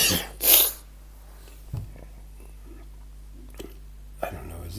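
A person gives one sharp, loud cough close to the microphone, followed by quiet with a few small breaths and rustles.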